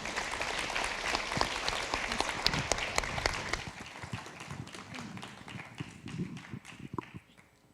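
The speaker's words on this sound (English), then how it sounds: "Let's give them another round of applause." At a diplomatic anniversary ceremony, an audience breaks into dense, loud applause. It thins over several seconds into scattered individual claps.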